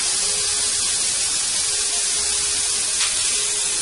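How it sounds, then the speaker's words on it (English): Steam rushing out of a stovetop pressure cooker during a manual pressure release, a loud continuous close hiss that holds steady throughout. "I took my pressure cooker off the heat, and I'm going to release the pressure manually here,"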